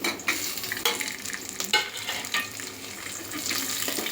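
Chicken biryani masala sizzles in a pan while a spoon stirs it, with repeated sharp scraping clicks at irregular intervals over a continuous frying hiss.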